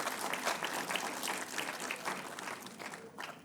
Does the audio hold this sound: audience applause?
yes